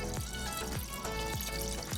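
Water being poured into a pot of arhar (toor) dal with turmeric while cooking Daal Ka Dulha, an Uttar Pradesh dish; a steady, close splashing pour runs continuously with rhythmic surges, and no one speaks.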